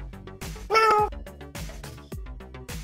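A single bright cat meow in a children's cartoon about cars, lasting about half a second and rising clearly above the steady background music.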